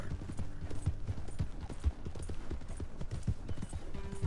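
Horse hooves clip-clop in a steady walking rhythm in the Western video game Red Dead Redemption 2, heard close and continuous over a soft background bed.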